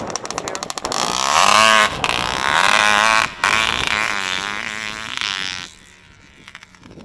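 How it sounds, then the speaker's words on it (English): A rally race motorcycle on a 1.1 mile road course roars loudly past, its engine revving hard through gear changes before fading into the distance. "First bike of the day out here at El Cross."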